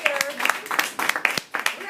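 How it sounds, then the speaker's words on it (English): An audience at a teachers' gathering bursts into clapping, fairly loud and close, with voices and cheering mixed in. "let's give ourselves a round of applause"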